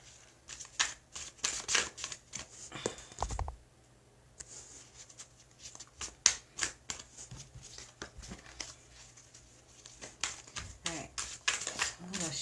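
Rapid riffling and slapping of tarot cards being shuffled in bursts, close by, pausing briefly before resuming, with occasional soft talking.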